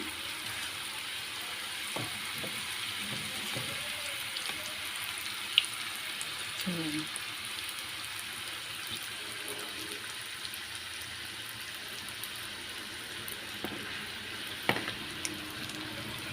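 Sesame, coconut and jaggery kajjikayalu dumplings fry in hot oil, a soft steady sizzle broken by a few sharp clinks and knocks from the pan, with faint voices now and then.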